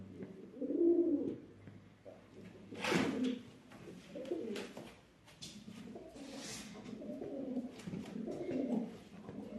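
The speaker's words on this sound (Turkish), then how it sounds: "Bekir Usta'nın kuşları" Pigeons coo inside a coop in several throaty, rolling calls spread across the stretch, with some scuffling and rustling in between.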